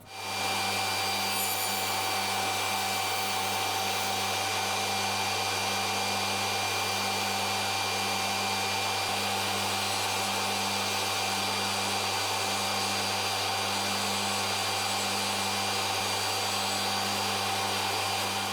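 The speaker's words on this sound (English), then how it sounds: "we'll start the blade up and we'll go into about there and then start cutting it off and turn it while it's in that position" Power saw with its blade running steadily as it shaves MDF into a 290 mm circle, a loud continuous whine with a constant hum throughout, no pauses and no speech.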